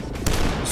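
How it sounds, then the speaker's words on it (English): Rapid burst of gunfire from enemies in the first-person shooter DUSK, a dense crackling volley filling the short moment at steady loudness, with no voices over it. "There were guys shooting from up there"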